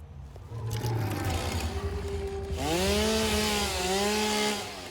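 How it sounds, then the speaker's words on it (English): A chainsaw in the Satisfactory video game revs steadily and close, its whining motor pitch climbing sharply partway through and then holding high, with no voices. "what happened to my chainsaw?"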